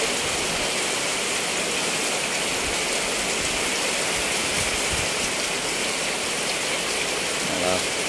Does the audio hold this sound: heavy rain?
yes